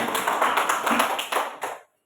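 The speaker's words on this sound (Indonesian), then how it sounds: "Tepuk tangan untuk kelompok itu." A classroom group claps for a group about to present, a burst of hand claps from many students lasting under two seconds before stopping abruptly.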